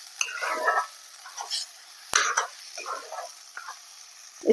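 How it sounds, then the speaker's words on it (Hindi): Stirring and roasting a mixture in a pan over a low-medium flame, with soft scraping and faint sizzle, scattered spoon-on-pan clinks and one sharp knock, close and fairly quiet. "अब इसको अच्छे से भून लेंगे।"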